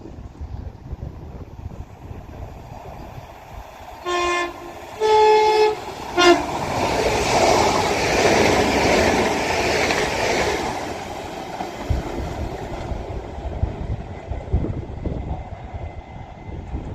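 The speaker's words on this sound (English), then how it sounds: "Now passing through is going to be a Transpennine Express class 397" A TransPennine Express Class 397 electric train passes through East Didsbury station on the Styal line, running to Manchester Airport from Edinburgh; a few short horn toots sound before a broad rushing roar of wheels builds and gradually fades away.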